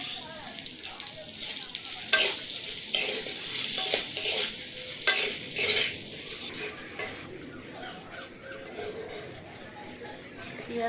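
Chopped onion and slit green chillies fry in a pan while being stirred, giving a steady close sizzle broken by repeated scraping strokes of a spoon for about eleven seconds, during a quail egg curry.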